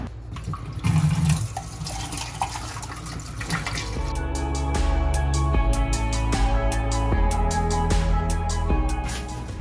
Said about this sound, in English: So, I'm going to change the water.